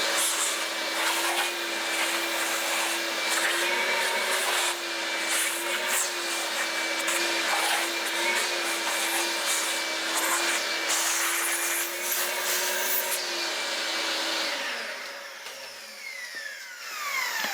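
A shop vacuum clears milling chips from a machine after a milling pass, a loud, steady whining suction with scraping and rattling chips, running continuously and alone before it winds down at the end.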